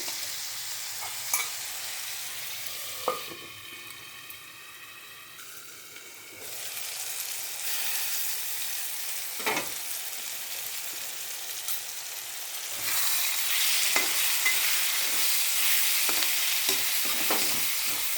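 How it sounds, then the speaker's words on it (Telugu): Tomatoes frying in a pan with a continuous hiss and crackle, broken by occasional scrapes and knocks of a spoon stirring, close up; the sizzle thins briefly midway, then swells louder toward the end. "ఇవి కూడా కొంచెం సేపు మగ్గనిద్దామండి టమోటాలు మగ్గాలి కదా"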